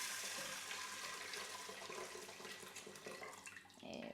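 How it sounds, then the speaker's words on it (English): A litre of water pours into an Instant Pot while making pea and ham soup. The liquid rushes and splashes steadily, close and continuous, with no talking. "I've got 1 liter of water, so I'm going to put this in there."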